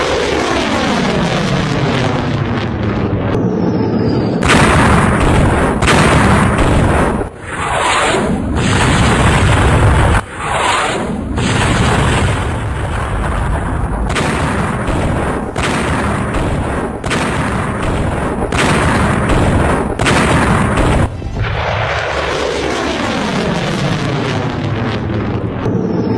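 Iskander missile launching and striking, a loud continuous roaring rush of rocket exhaust punctuated by heavy booms and thuds, sustained and powerful throughout with no voices.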